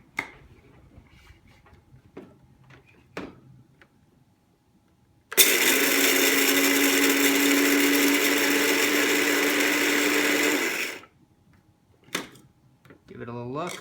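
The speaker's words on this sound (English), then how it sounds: "So now I'm going to grind the beans" An electric grinder grinds coffee beans for French press coffee in one loud, steady whirring burst of about five seconds, close by, with quiet handling noises and brief talk before and after.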